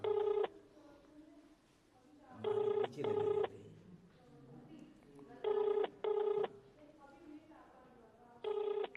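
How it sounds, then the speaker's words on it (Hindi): A telephone rings unanswered in repeated double bursts of an electronic ring tone, evenly spaced with pauses between them, with faint room noise in the gaps. "फ़ोन नहीं उठा रही हैं अभी।"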